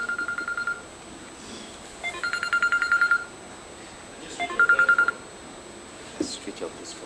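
A telephone rings in three short bursts of bright electronic trilling, each about a second long and separated by pauses, with people talking faintly at the end.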